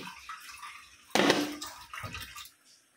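Dishes and a milk pot are being washed under running water, which gushes loudly in a sudden splashing burst, then settles into softer trickling and clinking before fading out, with no voices.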